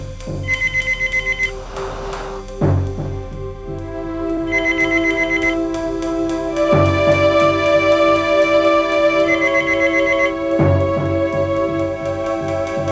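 A mobile phone ringtone rings indoors in a home, a bright repeating melody with bell-like tones sounding in several bursts, loud and clear with no voices over it.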